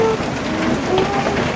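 Heavy rain pours down steadily on a home, a dense, even hiss at close range that fills the moment without voices.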